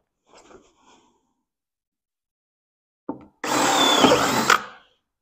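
A power drill fitted with a 3/8-inch bit bores holes for 1/4-inch bolts while building a truck repair module on a farm, a loud, steady whine lasting about a second after a few faint knocks and a sharp click.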